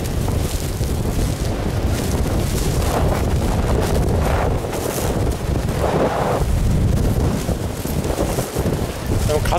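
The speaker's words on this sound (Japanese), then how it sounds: "でも風だけだな、雨は大したことないわ。" Strong typhoon wind in Okinawa roars and buffets the microphone continuously, rising and falling in powerful blasts.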